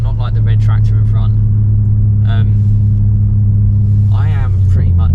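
A 2023 BMW M3 xDrive drives along a road in North Wales, its engine holding a loud, steady low drone with faint exhaust burbles, while people talk over it in the cabin.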